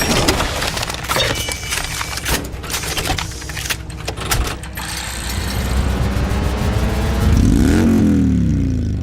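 An air-cooled Indian Motorcycle Thunderstroke V-twin sits close and loud, with mechanical clatter and throttle blips that build into a sustained rising rev near the end.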